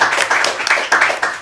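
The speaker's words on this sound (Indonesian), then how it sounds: "Tepuk tangan lu buat bendahara duanya." A small group at a student executive board chat claps for the treasurer in a short, close, loud burst of hand claps lasting just over a second.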